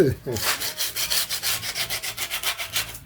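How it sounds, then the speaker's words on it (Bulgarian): Sandpaper rubs back and forth over the wooden body of a model Antonov 24 airplane in quick rhythmic strokes, close and fairly loud, with no voices. "сега ще почна го шкура с шкурка"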